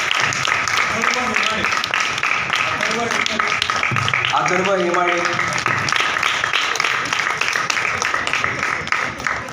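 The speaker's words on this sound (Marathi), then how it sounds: "टाळ्या कंटिन्यू ठेवा कंटिन्यू." Children and an audience keep up sustained applause at a drawing-competition prize ceremony in Talegaon Dabhade while an announcer speaks clearly over the clapping.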